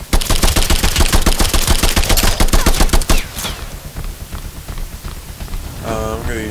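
Rapid automatic bursts from an assault rifle in the game Hentai Vs Evil, a loud, dense rattle of shots for about three seconds before dropping to quieter background noise.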